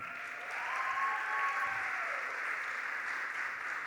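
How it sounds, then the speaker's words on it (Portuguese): An audience at a university panel on Indigenous cosmovisions in art education claps steadily, a dense wash of applause sustained for several seconds with no one speaking. "uma salva de palmas"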